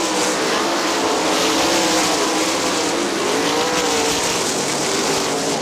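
Outlaw sprint cars racing side by side through the turns at Winston Motor Speedway in 2001, a loud, continuous high-revving engine roar with a wavering pitch, close and steady throughout, no voices.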